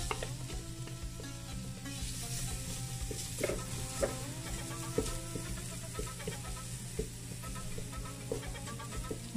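Half an onion and a garlic clove sizzling in a knob of butter, a busy close crackle with stirring clatter throughout and no talk.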